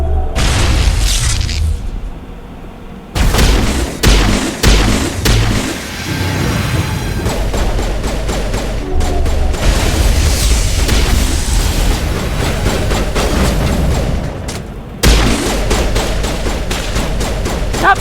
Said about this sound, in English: Not bad with just a pistol.